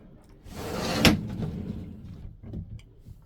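A cupboard door in a Burstner Lyseo i744 rear-lounge motorhome swings shut with one sharp knock near the middle, followed by softer rattles and a faint second thud, close by and quiet, with no talk.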